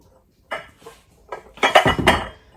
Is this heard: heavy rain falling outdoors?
no